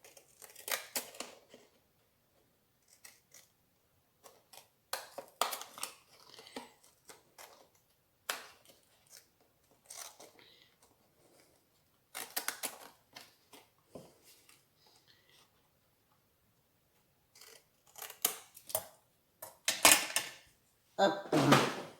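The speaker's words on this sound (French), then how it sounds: "Là, je reprends mon ciseau" Scissors snipping through paper and card while making an Advent calendar box, a series of short crisp cuts in bursts with pauses between, close and fairly quiet with no talking.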